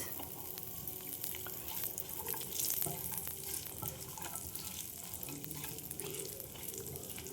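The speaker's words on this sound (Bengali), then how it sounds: "দেখো ড্রাই ফ্রুটগুলো আমার ভাজা হয়ে গেছে। এবার আমি দিয়ে দেব কিশমিশ।" Cashews, raisins and other dry fruits frying together in a pan give a steady close sizzle, with soft stirring scrapes and faint crackles running through it.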